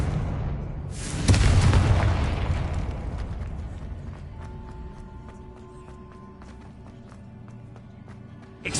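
A Confringo blasting spell bursts in Hogwarts Legacy, a loud booming explosion that swells sharply and then rumbles and decays beneath steady game ambience and faint mechanical clicks.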